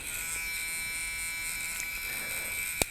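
Paintball mask fan kit (JT Vortex) running close by with a constant, thin high-pitched electric whir and buzz, steady throughout, ending with a sharp click.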